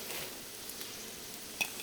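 Vegetables frying in a pan for Chinese fried rice, a soft steady sizzle with faint patter and one brief sharper crackle, heard alone without talk.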